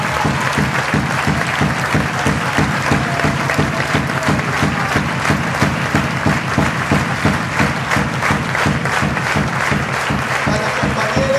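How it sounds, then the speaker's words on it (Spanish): Loud, close crowd applause at a political gathering in Puerto Madryn, steady dense clapping with rhythmic pulses running throughout. "Yo quiero darle un gran aplauso"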